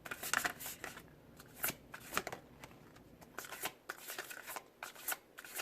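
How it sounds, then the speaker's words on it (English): Moonology oracle cards shuffled close up in a quiet room, with repeated quick riffling bursts and soft flutters in an uneven rhythm, no talking. "I'm going to end it off with pulling some Moonology cards."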